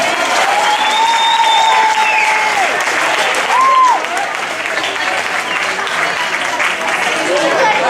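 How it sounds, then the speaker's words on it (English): Loud, dense applause fills a charity anniversary event for the Charcot-Marie-Tooth Association as a speaker named Jill is welcomed, with a few voices and a brief whoop rising above the continuous clapping. "Big round of applause for Jill, everyone."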